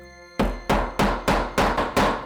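Six sharp, ringing hammer blows strike a bolt while making a leather bracelet, evenly spaced about every third of a second, each loud impact decaying quickly.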